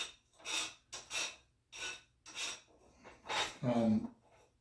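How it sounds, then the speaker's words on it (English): A diamond hone files hardened bandsaw teeth in a series of close, rhythmic rasping strokes, about five short bursts with brief pauses between them. "The diamond hone just cuts these hardened teeth way better."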